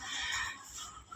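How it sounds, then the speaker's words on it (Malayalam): Spotted and black chickens cluck softly in a short, faint burst of scattered calls with no speech. "കോഴിയുണ്ട് പുള്ളിക്കോഴിയുണ്ട് കരിങ്കോഴിയുണ്ട് എല്ലാം ഉണ്ട്"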